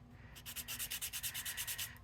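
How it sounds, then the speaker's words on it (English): A Spectrum Noir ColourBlend colored pencil tip scrapes back and forth across sandpaper in quick, even strokes, about a dozen rhythmic rasps, close and alone. "all it's doing is sanding off a little bit of that paper"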